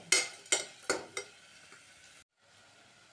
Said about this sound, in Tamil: இதுக்கு தேவையான உப்பு சேர்க்குறேன். ஒரு 5 நிமிஷம் பரட்டி விட்டுக்கலாம்.